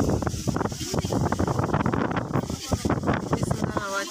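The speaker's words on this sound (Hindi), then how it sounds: "हवा चल रही है यहाँ पे" Wind blowing outdoors on a hillside at a family picnic in Uttarakhand, a continuous rushing buffet across the microphone under steady nearby talking.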